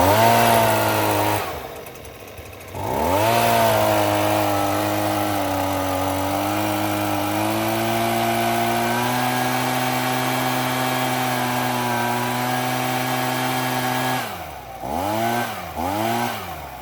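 A Husqvarna leaf blower with a freshly replaced carburetor and fuel lines runs loud and steady, its small two-stroke engine holding a constant high drone between brief throttle dips near the start and several quick revs at the end.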